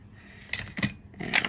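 Scissors snip through diamond weave ribbon trim at a craft table, giving two or three short, close crisp cuts over a quiet room background.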